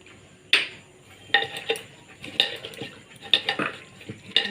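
Chicken is mixed with sour curd and salt in a bowl, giving a string of close, bright clinks and scrapes of a utensil against the dish with irregular pauses between them.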